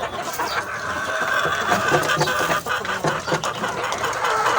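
Pet chickens clucking at feeding time in a backyard, repeated close clucks and soft calls over a busy, noisy background.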